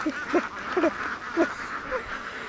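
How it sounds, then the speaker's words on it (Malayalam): Several ducks quack in short, raspy bursts beside a stream, about five calls spread unevenly over a soft background hum. "താറാവുകൾ പെട്ടെന്ന് നടന്നു പോകുന്നതാണ്"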